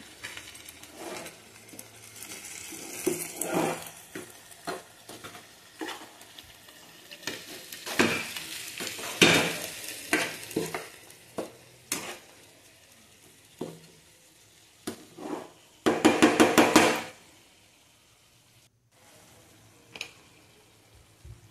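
Ginger garlic paste fries in a pan with a soft sizzle, broken by bursts of spoon stirring and scraping, a loud rapid clatter near the end, then quiet.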